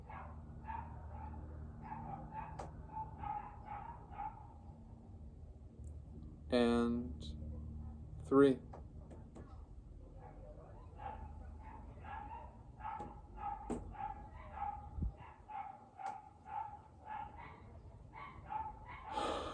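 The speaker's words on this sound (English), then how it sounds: "if you can hear the dogs in the background" Dogs bark in the background during a guided meditation, repeated distant yips and woofs scattered throughout, with a couple of louder barks, under a calm speaking voice.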